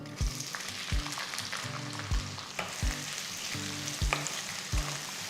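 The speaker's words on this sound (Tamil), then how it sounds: "இப்போ இதில் நம்ம 2 மீடியம் சைஸ் வெங்காயம் நறுக்கி சேர்த்துக்கலாம்." Two medium chopped onions frying in a pan of hot oil, a steady soft sizzle broken by regular clinks and scrapes of stirring, with no talk.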